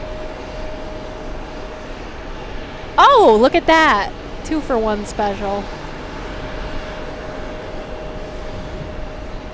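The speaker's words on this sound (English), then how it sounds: "Big business plane over here." A large business jet passes overhead, its engine whine sweeping downward in pitch for a few seconds and rising above steady background hum. Someone speaks over it.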